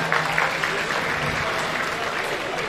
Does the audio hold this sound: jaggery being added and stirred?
no